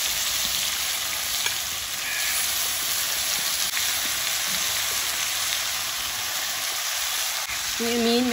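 Marinated fish frying in hot oil with curry leaves for a Kerala-style fish peera, giving a steady close sizzle throughout with no talk.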